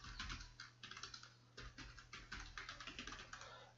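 Fast, steady typing on a computer keyboard, a run of quiet, close key clicks with brief pauses and no talk.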